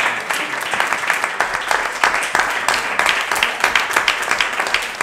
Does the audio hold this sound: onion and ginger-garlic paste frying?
no